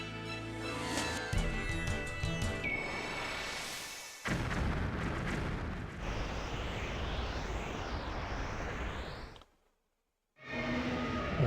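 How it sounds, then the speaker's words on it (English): Cannons blasting at a dragon boss in the Klonoa Phantasy Reverie Series on PS5, dense booming explosions layered over game music, a brief silence near the end before the sound resumes. "the way you damage him is by firing all 5 cannons at once"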